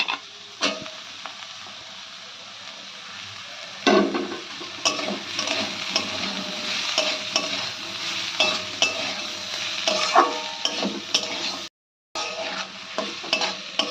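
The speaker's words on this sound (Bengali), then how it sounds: "ভেজিটেবলটা একটু ভাজা হতে হতে আমরা একটা সস রেডি করে নিচ্ছি।" Mixed vegetables with long strips of capsicum stir-fry in a hot pan for veg chowmein, a steady sizzle broken by repeated scraping and clattering stirs, loud and close with no talking.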